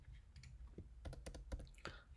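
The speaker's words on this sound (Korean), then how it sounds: "너무 이미지가 크다 싶을 때는 컨트롤 T를 눌러서" Keys clicking on a computer keyboard while working in Photoshop, a quiet scatter of separate taps and short clusters of presses, close and faint with no talking.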